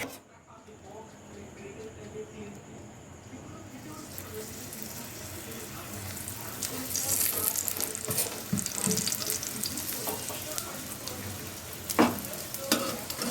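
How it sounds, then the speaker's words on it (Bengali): Parathas frying in oil in a home kitchen, a steady crackling sizzle that grows louder partway through, with clinks of a utensil and someone talking over it. "দেখো এগুলো ভাজা হচ্ছে"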